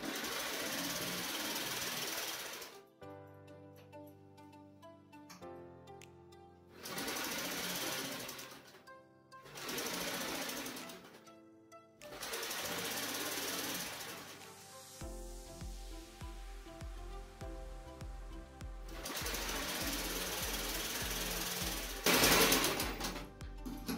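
A sewing machine stitches a saree blouse sleeve in loud, close bursts of rapid mechanical clatter, several seconds each, separated by brief pauses and a steady lower motor hum.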